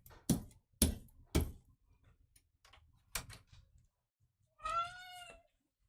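A cat meows loudly once near the end, a drawn-out cry with clear harmonics, after several sharp knocks and faint clicks indoors on a rainy day.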